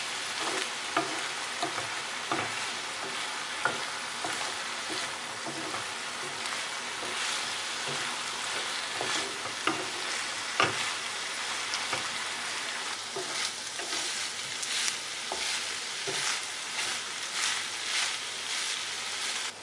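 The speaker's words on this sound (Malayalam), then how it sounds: "നമുക്കിത് നന്നായി ഒന്ന് ഇളക്കാം." Prawn thoran, a Kerala stir-fried shrimp dish, is stirred in a pan after cooking covered, giving a continuous loud sizzle with frequent spatula scrapes and taps throughout, no voices.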